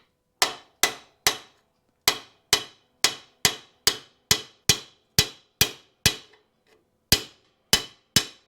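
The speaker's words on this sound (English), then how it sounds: "You can hear the sound of the hammer in this socket when it bottoms out." Sharp metallic hammer blows on a socket seating pre-lubed bearings into a Stihl 041 chainsaw crankcase, about fifteen crisp ringing taps in a steady rhythm with brief pauses, close and loud.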